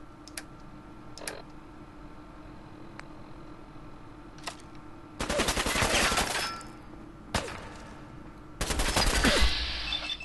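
In the video game Fallout 4, the Righteous Authority laser rifle fires in two loud bursts of rapid zapping shots, one lasting about a second and the other longer. A few faint, sharp clicks come earlier.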